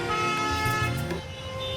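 Busy road traffic with car horns honking in long tones close by, layered over the hum of engines.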